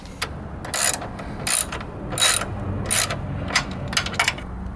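A hand ratchet clicks in quick bursts tightening a battery hold-down on a Subaru WRX, several short close-up runs of sharp clicking separated by pauses.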